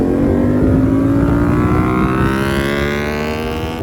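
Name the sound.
motorcycle engine revving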